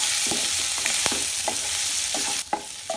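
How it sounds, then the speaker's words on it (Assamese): Pork with ginger and garlic is stirred in a hot pan, producing a steady sizzle broken by scattered scraping clicks of the spoon against the pan. "মাংসখিনি দি দিব ভালকৈ বস্তুখিনি মিক্স কৰি দিব"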